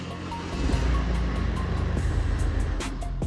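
A Mercedes-Benz with a Delphi CRD3 engine control unit cranks and starts, settling into a steady low idle rumble close by, with a sharp transient near the end.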